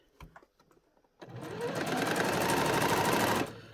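A sewing machine stitches elastic onto tartan fabric for a pleated doll skirt, a short pause of handling noises and then a steady, close, fast mechanical whirring run of about two seconds that stops abruptly.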